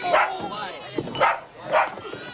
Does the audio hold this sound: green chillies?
no